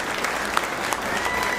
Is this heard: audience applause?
yes